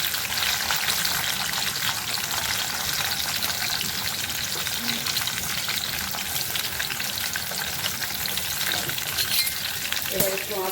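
Chopped capsicum and beans fry in hot oil, a loud, constant sizzle with occasional stirring scrapes that continues evenly without a break, ending with a small clatter.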